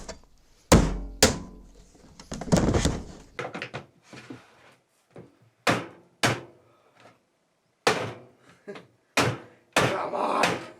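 A hammer knocks against the grill of an RCA 2521 speaker, giving sharp irregular thuds and knocks, some in quick pairs, loud and close with pauses between.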